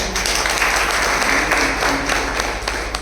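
A crowd claps together in a brief burst of applause, fairly loud and steady, with a few voices faintly underneath.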